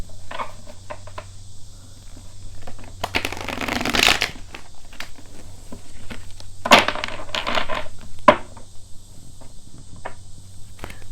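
Cards being riffled and shuffled in several crisp bursts, close by, with a steady faint hum underneath.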